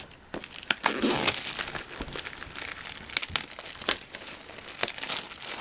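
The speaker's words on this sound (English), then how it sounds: "Oh, okay, I don't need to cut it, it's just tearing anyway. So I'll just tear all this off." Cellophane wrapping crinkles and tears as it is pulled off a box, a continuous close rustle broken by sharp crackling snaps for several seconds, with no talking.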